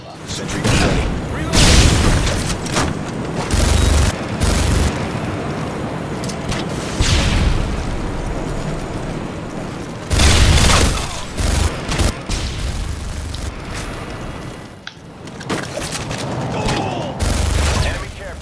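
Gunfire and explosions in the video game Modern Warfare 2, with a sentry gun firing: loud bursts of rapid shooting and booming blasts recurring in clusters, with intermittent in-game voice callouts.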